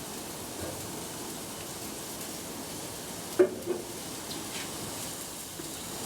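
A pork chop fries in melted butter in a pan, a low, steady sizzle running throughout with a couple of brief sharper pops or clinks partway through.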